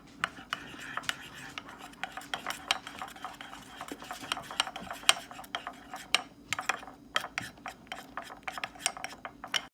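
Leaf green gel food coloring being mixed for hot cocoa bombs, a close, busy run of quick scraping, tapping and clinking strokes of a utensil against a bowl, continuing steadily with no voices.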